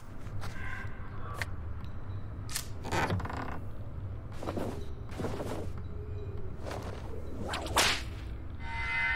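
Whip cracks and swishing sounds in the hidden-object game Sea of Lies: Leviathan Reef, several sharp snaps scattered irregularly over a low background hum, with no talk.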